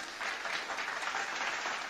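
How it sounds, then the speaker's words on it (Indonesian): Faint, distant applause from an audience at a graduation ceremony at Palcomtech Institute of Technology and Business in Palembang. Many hands clap in a continuous wash for about two seconds. "Tepuk tangan semuanya."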